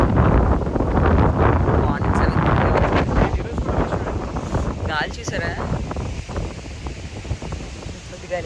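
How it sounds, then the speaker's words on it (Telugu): Strong wind roars and buffets the microphone in loud, rushing gusts during rainy weather at a resort in Chikmagalur, easing slightly toward the end. "కాకపోతే గాలి అయితే ఫుల్గా వేస్తుంది"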